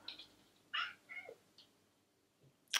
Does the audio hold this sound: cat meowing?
yes